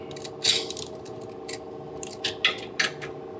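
A ratchet on a 12 mm socket loosening an exhaust bolt on a Yamaha XSR900 during an Akrapovic exhaust install, a few short clicking ratchet bursts spaced unevenly, close up over a low steady background hum.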